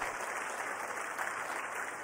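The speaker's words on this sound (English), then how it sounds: "Let us give a big round of applause to the entire team." Audience at a rocket launch event applauding the SSLV development team, a brief, fairly quiet wash of clapping heard at a distance for about two seconds.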